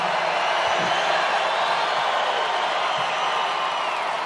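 A huge crowd at a Donald Trump victory rally in Hershey, Pennsylvania cheers and roars continuously, a dense, loud wall of voices without pause.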